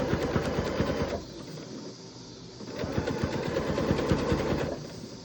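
A sewing machine stitches a round jelly roll rug from fabric strips. It runs in two fast, even bursts of rattling needle strokes with a short pause between them, heard close up.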